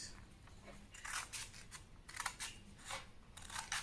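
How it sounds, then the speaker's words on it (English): Scissors cut out a paper keyhole neckline pattern in a series of faint, crisp snips. The snips come in quick irregular bursts against a quiet background. "Be careful when you are cutting so that you don't overcut."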